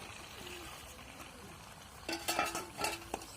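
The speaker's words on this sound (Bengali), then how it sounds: "এবার আমি মাংসটা দিচ্ছি" A utensil scrapes and stirs chicken into frying spices, onion and garlic in a frying pan, with a few quick clattering bursts in the second half over a faint background hiss.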